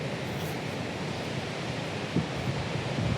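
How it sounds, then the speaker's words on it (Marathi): Wind blows across the seashore with sea waves washing in, a broad, continuous rushing roar and some microphone buffeting, with no voices. "हवा बघा काय सुटली ती"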